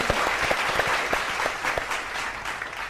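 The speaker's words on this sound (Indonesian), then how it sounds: "Beri tepuk semangat sekali lagi untuk kedua tim." Steady applause from a studio audience at an Indonesian TV quiz show, cheering on the two competing teams; dense, continuous clapping that stays even and fairly loud throughout.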